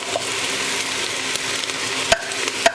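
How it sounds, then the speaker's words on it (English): Minced meat for a bolognese sauce fries steadily in a pan, giving a constant close sizzle with the scrape of stirring and two sharp utensil clinks near the end. "now this mince is now sweating on for the last 3-4 minutes. Now I have to stir again."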